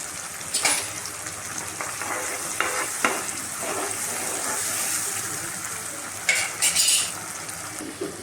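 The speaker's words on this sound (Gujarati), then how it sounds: "હવે આપણે તેમાં ઝીણું સમારેલું ટમેટું નાખીશું." Finely chopped tomato is fried and stirred into a mixed dal tadka base, with a continuous close sizzle and a few sharp clinks and scrapes of a spoon on the pot.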